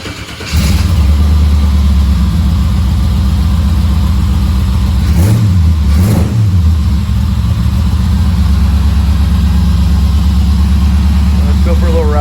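A Vette go-kart engine with a return-style fuel pump starts up and settles into a steady, loud, close idle, with a brief blip of revs partway through.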